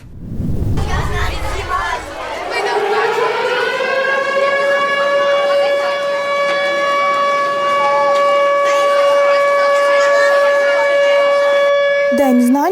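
A loud air raid siren in Lviv, Ukraine wails steadily at a sustained pitch, with faint crowd and children's chatter underneath at the start.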